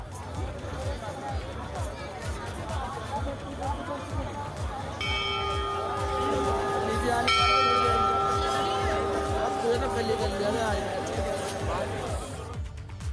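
The temple bell at Kedarnath rings out a few clear metallic strikes that hum and linger, partly masked by a busy crowd of pilgrims and a news narrator talking over it.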